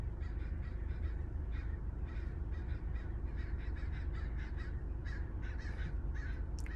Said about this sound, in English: Man, there's a whole murder of crows here.